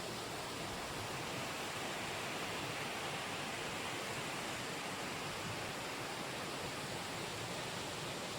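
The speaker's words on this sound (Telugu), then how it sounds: "కొంచెం వాటర్ అయితే లీకేజ్ అవుతుంది" Steady, dense rushing water leaking through the gates of the Kinnerasani dam, whose wall below is damaged: a constant broadband hiss like water pouring through gaps, close and unchanging with no voices.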